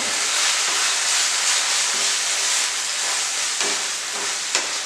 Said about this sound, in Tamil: நல்லா ஒரு வதக்கி விடணும்.